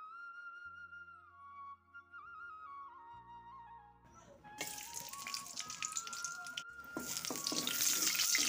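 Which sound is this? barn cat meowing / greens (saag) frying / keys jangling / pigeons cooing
greens (saag) frying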